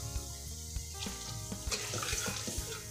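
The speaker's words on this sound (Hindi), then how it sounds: "इसके बाद हमने तकरीबन आधा गिलास इसमें पानी डाल दिया" Water poured into a pan of masala and yogurt being fried for seekh kabab pulao, a steady rushing pour over the sizzle of the cooking spices, close and fairly loud.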